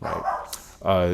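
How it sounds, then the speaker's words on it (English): A dog barks in the background of a home recording, one or two short yips heard beneath and between a man's speech. "dog barking in the background."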